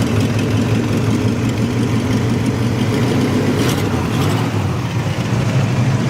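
A 1955 Pontiac Chieftain coupe engine idles steadily with a low, even rumble, loud and close, with no voices.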